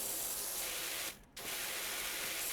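A pressure washer spraying in a pressure washer simulator game, a steady loud hiss that drops out briefly for a moment and then resumes.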